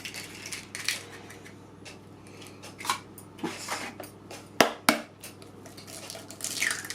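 Eggs are cracked by hand for a yoghurt cake, a few sharp taps and clicks of thin shell against a bowl, with small clinks and drips in a quiet kitchen.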